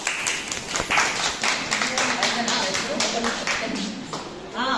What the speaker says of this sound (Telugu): ఒకసారి క్లాప్స్ పెట్టాలి.